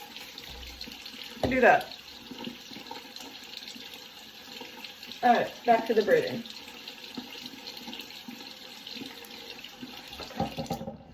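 Water from a kitchen sink sprayer hisses in a few short bursts, the strongest two near the start and middle and a softer one at the end, with someone talking between them.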